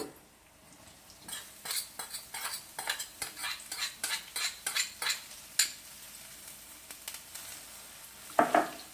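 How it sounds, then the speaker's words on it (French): Onions stirred in sesame oil in a wok, heard as a quick run of scraping, clattering utensil strokes over a faint sizzle, close up with no voices. "je vais rajouter un petit peu d'huile de sésame, pas trop parce que j'en ai déjà, et puis je vais incorporer mes oignons."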